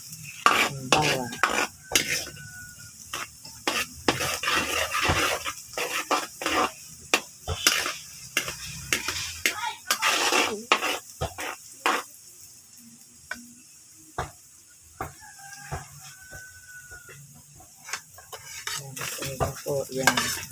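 Garlic sizzles in a pan for dinuguan, a Filipino pork blood stew, under a constant soft frying hiss while a utensil scrapes and clinks against the pan in quick, irregular strokes.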